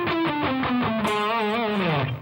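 Electric guitar plays a legato lead line at half speed with a distorted tone, the notes gliding and bending in a continuous run at steady loudness, alone.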